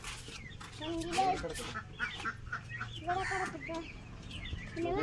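A rooster clucks repeatedly and close by, its choppy calls coming in quick, uneven bursts.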